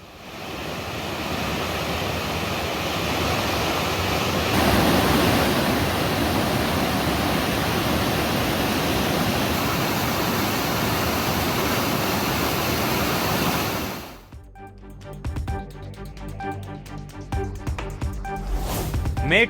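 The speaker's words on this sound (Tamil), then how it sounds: "தொடர் மழை காரணமாக தேனி கும்பக்கரை அருவியில் கடும் வெள்ளப்பெருக்கு" A waterfall in heavy flood at Kumbakkarai falls in Theni, swollen by continuous rain, roars as a loud, steady wash of rushing water for most of the stretch before it cuts off abruptly and other sounds take over.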